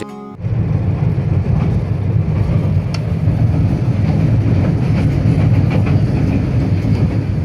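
A moving train from Chittagong to Dhaka roars steadily from inside, with continuous low rumbling and faint rhythmic clacking throughout.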